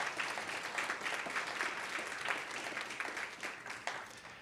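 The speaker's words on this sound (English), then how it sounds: "we can give them a round of applause" Audience clapping at a county Republican primary runoff candidate forum, a moderate round of applause from a room of people, continuous and even, with no talk over it.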